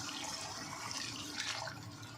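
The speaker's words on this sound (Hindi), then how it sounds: "अब हम इसमें डालेंगे पानी। पानी कितना? 1 गिलास पानी डालेंगे।" A glass of water pouring into a pan of sliced potatoes in a home kitchen, a soft steady splashing trickle that runs quietly throughout with no voices.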